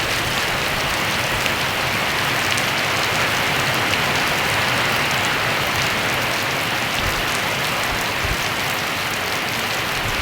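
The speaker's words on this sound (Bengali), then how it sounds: "আজকে সকাল থেকে প্রচুর বৃষ্টি শুরু হয়েছে।" Heavy morning rain in a village pours down in a dense, unbroken roar of drops on surfaces, loud and steady throughout with no voices.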